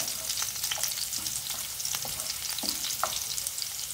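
Sliced garlic cloves frying in ghee, a bright crackling sizzle with quick popping spatters and spoon stirs scattered throughout, close and steady, no one talking.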